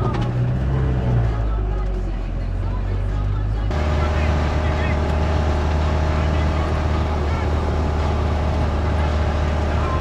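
A camper van drives along the road, its engine and tyres making a steady loud rumbling drone that thickens after a few seconds and continues unbroken.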